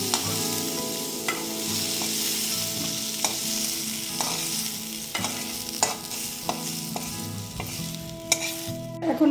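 Vegetables fry in a pan with a constant close sizzle, punctuated by a regular series of sharp spatula taps and scrapes against the metal; no voices.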